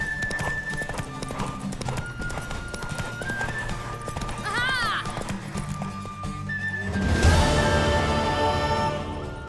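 Horse galloping in a race in The Witcher 3, with rapid hoofbeats over a layered game soundscape, a brief whinny midway and a louder swell near the end, no talk.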